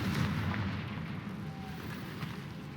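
The Confringo fire spell in Hogwarts Legacy lands as a booming, rumbling blast that fades into a low roar, loud and alone with no talking.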